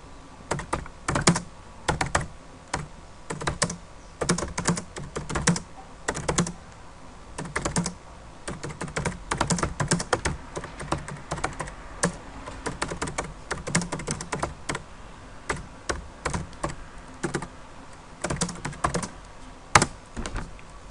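Fingers type steadily on a computer keyboard, a near, quiet run of irregular key clicks and taps in bursts with brief pauses, no speech.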